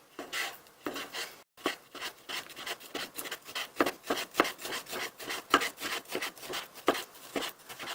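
A knife slices meat on a cutting board with a fast, steady run of close, crisp strokes pushed and pulled back and forth.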